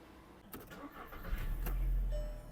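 A 2010 Volkswagen Passat B6 with a 1.6 MPI petrol engine is started up close. A few clicks come first, then the starter cranks briefly, and the engine catches and settles into a smooth, steady low idle.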